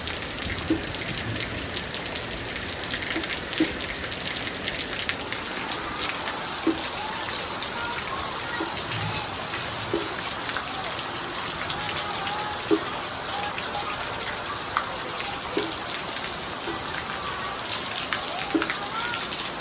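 Heavy rain pours down steadily on a farm, a dense hiss with scattered louder drops tapping on a surface, continuing without pause.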